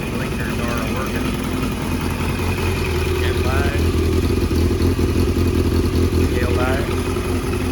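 A Yamaha Tenere 700 motorcycle idles close by on a hot summer day, its steady engine clatter and mid-pitched drone carrying an exhaust leak, running continuously under intermittent speech.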